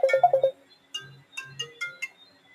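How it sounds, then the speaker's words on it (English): A phone rings with an incoming call, a bright melodic electronic ringtone with quick repeated notes and a short pause between phrases, clear and close. "Let me answer this phone call."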